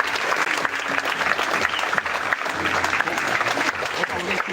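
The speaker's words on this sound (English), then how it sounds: "One more round of applause, please, for that great poem." Audience applause after a poem at a Bitcoin event: sustained, dense clapping from a crowd, steady throughout, with a voice speaking over it.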